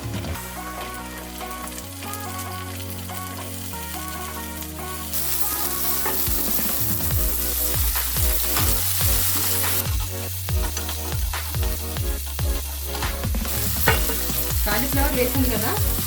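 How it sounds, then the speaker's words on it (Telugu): Cauliflower added to fried onions and cumin in a pan for gobi curry, loud dense sizzling that intensifies partway through, with rhythmic scraping and clanking as it is stirred, over background music. "ఇప్పుడు కాలీఫ్లవర్ వేసుకుందాం."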